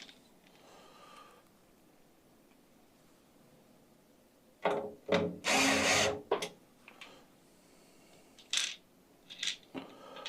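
A Hitachi electric screwdriver drives screws into a PC case in short, close bursts of whirring, one longer run in the middle and a few quick ones after, separated by quiet handling.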